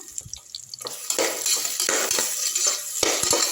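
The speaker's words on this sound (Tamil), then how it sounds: "எண்ணெயில் நல்லா வதங்கட்டும்" Onions sizzling in hot oil for a chicken gravy while a utensil stirs and scrapes the pan, with a steady close-up frying hiss.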